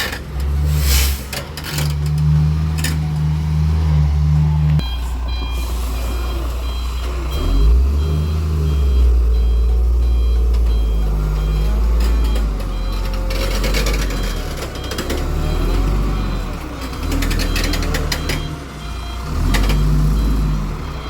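Five trucks maneuver near a roadside with houses, their reversing alarms beeping in a loud, steady repeating pattern over deep diesel engine rumble and occasional revving, close by and continuing for the whole stretch.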